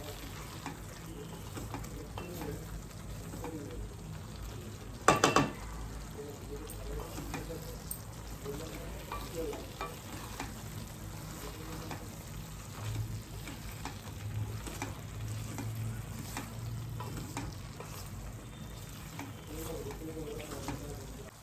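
A masala paste of dried coconut and garlic being sautéed for a traditional Agri-style val bean curry, with steady low frying and stirring noise throughout and one sharp clatter partway through.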